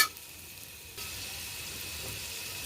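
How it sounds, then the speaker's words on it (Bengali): Potatoes fry in a pan for a vegetarian raw-banana kofta curry, first a quiet sizzle, then a sudden louder, steady rushing hiss as water goes in and keeps hissing. "আলু দিয়ে ভালো করে কষিয়ে জল দিয়ে দেবো।"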